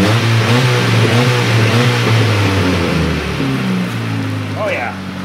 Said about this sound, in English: Can we give her a couple more revs really quick?